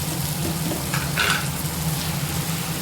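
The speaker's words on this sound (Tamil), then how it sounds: "தக்காளி வெங்காயம் நல்லா வதங்கிருச்சு." Onion and tomatoes sauté in a pan for a kuzhambu, a steady close sizzle and crackle with faint stirring, alone without voices.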